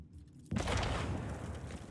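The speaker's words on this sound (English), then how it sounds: "A frag grenade explosion cuts off the rest of the sergeant's words." A frag grenade detonates in a single sudden loud blast, its boom and debris rumble filling the short clip after a quiet start.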